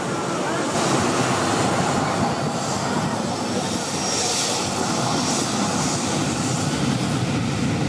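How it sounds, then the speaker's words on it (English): An airplane passing low over Maho Beach, St. Martin, making a loud, continuous, broadband engine roar that fills the whole stretch, close overhead, with a faint wash of surf or crowd underneath. "the runway is so close to the shore that aircraft fly just a few meters above beachgoers'"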